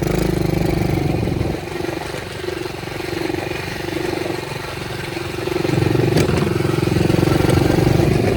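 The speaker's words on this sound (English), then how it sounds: "Not super easy to ride a quad" The engine of a Chinese TaoTao kids quad runs steadily while being ridden, a close, loud, buzzing drone that dips slightly in the middle and rises again toward the end.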